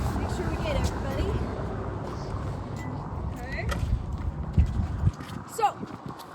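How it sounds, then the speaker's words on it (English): Horse hooves clip-clop at a steady walk in an outdoor setting, moderately close, mixed with background rumble and a few faint voices near the end. "That's my horse."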